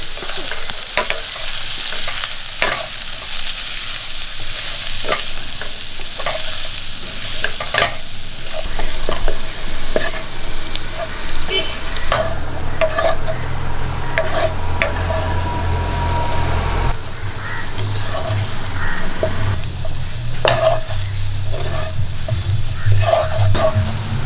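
Boiled potatoes with turmeric being stirred in a frying pan, repeated spatula scrapes and knocks over a low sizzle, close and fairly loud, with a low rumble entering partway through.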